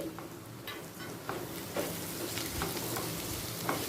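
Ginger garlic paste and chopped green chillies frying in a pan, a steady soft sizzle with light stirring clicks and scrapes, close and continuous with no talking.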